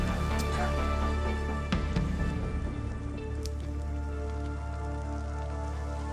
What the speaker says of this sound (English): The raining effects is also over the top